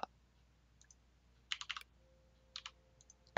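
Keys tapped on a computer keyboard during a modded Minecraft FTB session: short clustered bursts of clicks at close range, separated by quiet pauses, with a sharper click at the very end and no voices.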